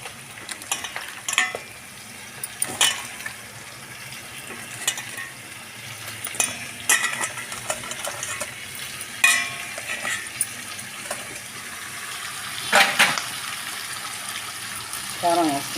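Chicken pieces sizzle and fry in a pan for chicken curry, making a steady crackling hiss with scattered clinks and stirring scrapes. A person talks over the cooking now and then.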